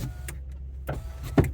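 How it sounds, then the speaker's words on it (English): Electric windows in a car run in a brief burst: a low motor hum broken by a few soft clicks and thumps, heard close up with no talking. "Electric windows."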